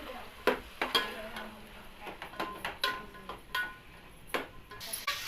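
Washed, chopped potatoes being stirred in a pan, a series of irregular scraping and clinking strokes over a low sizzle, close and fairly loud.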